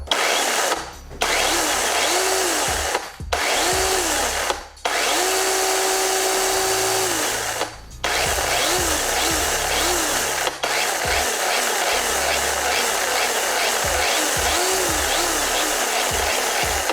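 A Makita DUC357Z cordless chainsaw whines steadily for a long stretch, its pitch rising and falling with the throttle and cutting out briefly several times.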